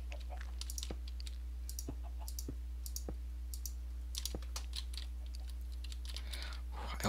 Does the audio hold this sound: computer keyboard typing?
yes